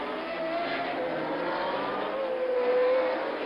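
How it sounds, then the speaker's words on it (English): A 1979 Ferrari T4 flat-12 Formula 1 car screams at the US West Grand Prix, a steady high-pitched engine wail that climbs slightly in pitch as it races past, loud and continuous. "look at Villeneuve in the flat 12, new T4 Ferrari."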